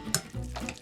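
Starchy water saved from boiling potatoes is poured into mashed potatoes. The splash is brief and soft, with a faint trickle and a quiet wet stirring sound.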